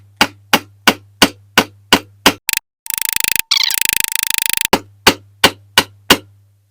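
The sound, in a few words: hammer peening a rivet on a diecast toy axle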